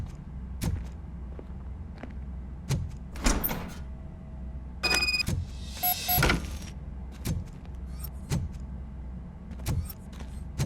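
A door being opened in the RoboCop: Rogue City game, heard as a mechanical clunk and a short sliding mechanism among repeated thuds over a low steady ambient hum, with no speech.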